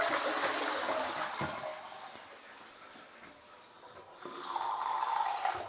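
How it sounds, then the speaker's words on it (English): A toilet flushes with a rushing, gurgling surge of water that dips, then swells again as the tank refills, heard close and alone. "let's flush the toilet."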